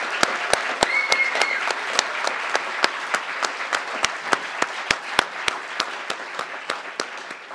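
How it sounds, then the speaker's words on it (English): A crowd claps steadily for graduates at an economics commencement ceremony, with dense, sustained applause and sharp individual claps standing out near the microphone, continuing evenly for several seconds. "How about just one final last round of applause for our graduates."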